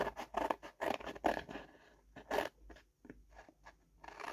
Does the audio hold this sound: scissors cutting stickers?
yes